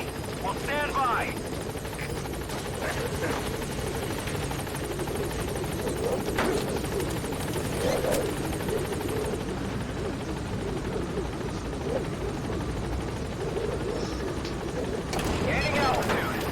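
The B-Quad helicopter sets down at a landing zone in Metal Gear Solid V, its rotors roaring steadily and loud throughout while a radio voice talks over it.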